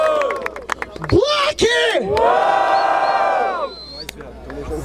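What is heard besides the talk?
crowd applauding and cheering at a rap battle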